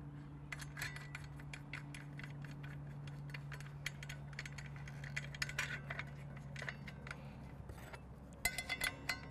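A blade nut is threaded onto a circular saw arbor, a run of quiet scattered metallic ticks and small clinks over a low steady hum, ending in a few sharper clicks as it tightens; no talking.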